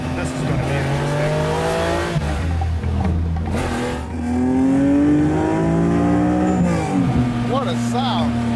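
A classic car engine revs loudly and steadily while the car is driven, its low drone rising and falling throughout, with people talking over it.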